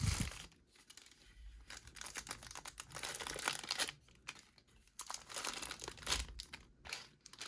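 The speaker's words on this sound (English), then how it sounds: "he does have some plastic on him, but we can go ahead and take that off" Plastic wrap is peeled and crinkled off a Hot Toys 501st action figure just out of its packaging, with irregular close crackling and tearing bursts and short pauses, with no talking.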